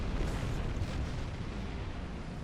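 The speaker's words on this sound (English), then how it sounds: "Watch those torpedoes." Torpedoes fired and exploding in the Star Trek Online space game, a dense continuous rumbling blast that stays loud and broad throughout, fading slightly toward the end.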